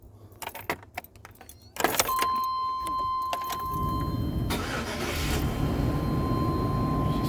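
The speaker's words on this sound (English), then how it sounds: "Start it up, let you hear it run." A Chevy Express van engine cranks briefly and catches, then settles into a steady, smooth idle that runs on loud and close, with a chime tone sounding early on.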